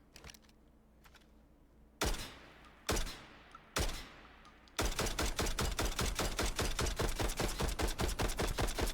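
A semi-automatic shotgun in the video game Delta Force Hawk Ops fires three loud, spaced blasts with decaying tails, then gives way to a dense, steady stream of rapid-fire shots that continues to the end.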